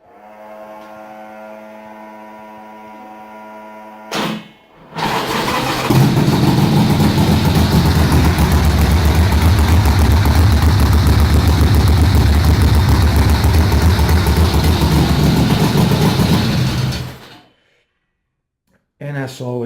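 A 1,460 cc Harley-Davidson motorcycle engine is started after a low steady hum and a brief crank, then catches and idles loud and close for about twelve seconds before shutting off abruptly.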